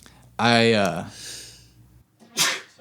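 A single loud, close sneeze with a rising voiced burst, followed by a quiet breath and a short sharp exhale.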